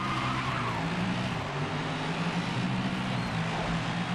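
An American LMP prototype race car in the GRID racing game, its engine droning steadily at high revs for a few seconds, loud and continuous with faint tire noise and no pauses.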